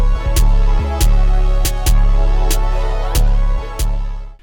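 Heavy, sustained 808 bass notes in a UK underground beat play continuously under crisp drum hits, with the low tones ringing through without any pauses.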